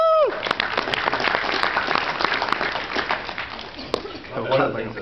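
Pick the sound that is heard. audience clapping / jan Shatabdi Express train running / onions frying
audience clapping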